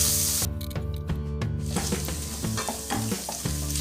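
Garlic sizzles and fries in a hot pan for a ginger garlic soup while being stirred. Close, continuous crackling sizzle with scraping stir strokes, no talking.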